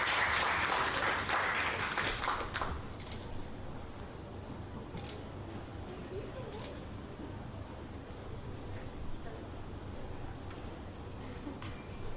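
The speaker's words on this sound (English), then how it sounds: "Let's do a big round of applause to our Expatpreneur of the Year winner, Natalie Ribet." Applause at an expat entrepreneur awards event for the winner of the year. A brief burst of clapping opens, then quickly gives way to quiet room noise with faint scattered sounds.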